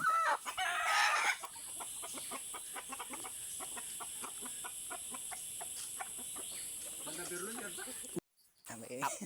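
Chickens cluck in quick, repeated bursts close by, with a brief squawk at the start and a sudden cut near the end.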